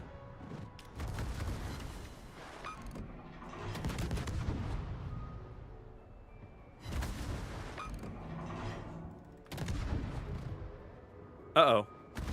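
Heavy battleship gun salvos and shell impacts in World of Warships, several separate booming bursts spaced a few seconds apart with rumbling mechanical tails, moderately loud beneath occasional talk.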